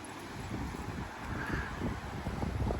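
Wind blowing outdoors around a campsite by Little River Canyon in Alabama, a steady broadband rush buffeting the microphone without break, loud and close, with no voices.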